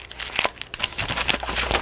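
Photographic paper being folded and creased into a postcard, giving close, crisp crinkling and crackling that comes in quick irregular bursts over the whole stretch, with no talking.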